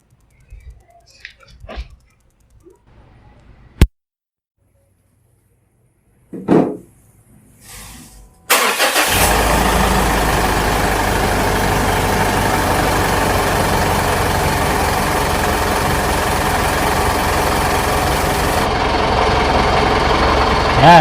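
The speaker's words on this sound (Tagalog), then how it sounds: "So buksan natin yung makina." A Mitsubishi Montero Sport engine cranks and catches at close range, then settles into a steady, loud idle that runs on without a break, with a few soft clicks and voices before it starts.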